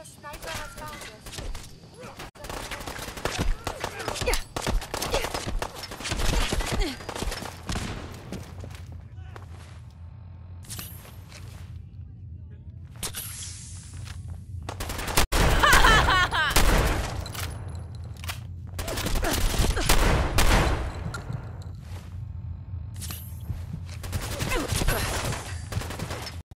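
Sniper gunfire in a shooter video game, heard as sharp cracks and bursts of shots scattered through the stretch, with footsteps and game ambience underneath and louder volleys toward the middle and end.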